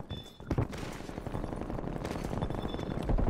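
Rapid QBZ rifle gunfire in a video game, a dense run of close, loud shots that continues almost without pause through a heated online match.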